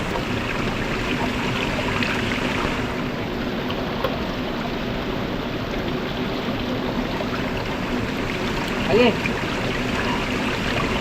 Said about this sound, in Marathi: कसं आहे हा ओढा